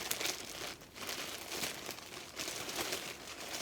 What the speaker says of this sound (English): I'll just rip it open because that's more exciting